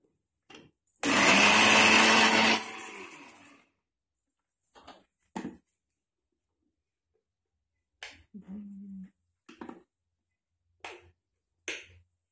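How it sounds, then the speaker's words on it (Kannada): An electric mixer grinder whirs loudly in a household kitchen for about two seconds and then spins down, followed by scattered brief clicks and knocks in an otherwise quiet room. "ಮಿಕ್ಸಿ ತಕೋಪ್ಪ"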